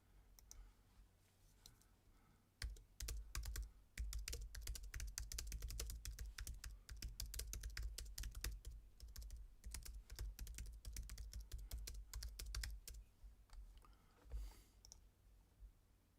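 Rapid, busy clatter of typing on a computer keyboard, keystrokes tapping close and loud in an irregular stream for most of the span, with no one talking.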